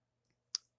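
Computer mouse click on an image slot in software, a single close, sharp click preceded by a faint tiny tick in otherwise quiet room tone.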